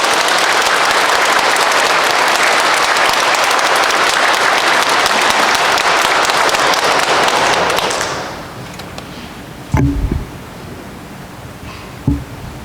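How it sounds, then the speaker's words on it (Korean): A Catholic church congregation at a Sunday Mass applauds to welcome a seminarian. The dense, loud clapping fills the space for about eight seconds, then fades, followed by a couple of isolated thumps in the quieter room. "박수 부탁드립니다."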